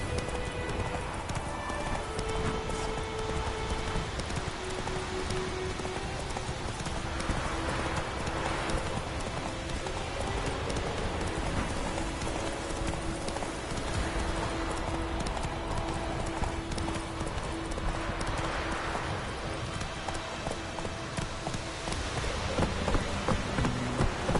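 Steady clip-clop of a horse galloping through rain in The Witcher 3, hoofbeats rhythmic and continuous over a constant patter of falling rain, with a brief whinny.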